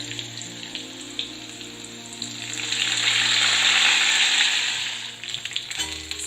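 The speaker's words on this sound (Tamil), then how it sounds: "இதோடைய ஒரு 2 பல்லு பூண்டை இடிச்ச மாதிரி சேர்த்துக்கலாம். கொஞ்சம் கருவேப்பிலை," Crushed garlic cloves and curry leaves frying in hot oil for a potato fry, a steady sizzle that swells louder midway and then eases off, with no talking.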